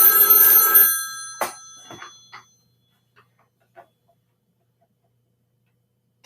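An old telephone bell rings loudly in a single metallic burst, then a few faint clicks and taps follow in near silence.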